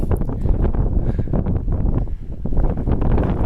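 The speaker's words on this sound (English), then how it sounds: "Now it's starting to get windy, looking a little cloudy." Gusty wind buffets the microphone in a steady low roar on a mountain ascent of Granite Peak, rising and falling with brief lulls; no voices.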